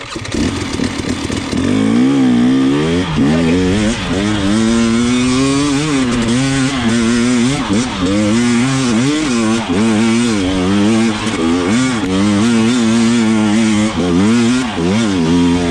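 A dirt bike engine revs hard and continuously on a hill climb, loud and close, the pitch rising and falling as the throttle and clutch are worked, with no talk over it.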